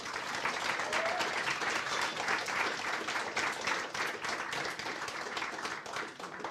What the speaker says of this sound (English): Round of applause for Jenny.